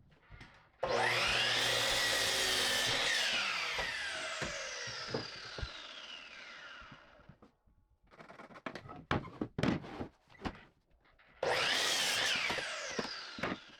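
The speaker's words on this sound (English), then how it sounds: "Take 2 of the 2x4s and cut them in half" A power saw whines loudly through 2x4 lumber, a long sustained cut with the pitch dropping as the blade works through the wood, then scattered knocks and handling clatter before a second shorter cut starts up.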